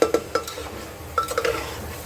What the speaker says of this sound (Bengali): এবার চিকেনটা দিয়ে আগে ভালো করে ভেজে নিচ্ছি।